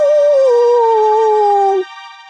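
A voice imitates a werewolf howl, one long, loud, sustained wavering tone that slides slightly downward and then cuts off abruptly.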